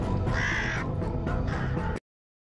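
A carrion crow caws loudly and close by, harsh rasping calls repeated in quick succession for about two seconds, then abrupt silence.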